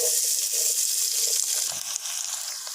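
Onions frying in half a cup of oil in a kadhai for street-style Lahori chikar cholay, a steady dense hiss and crackle that holds close and loud throughout, no talking.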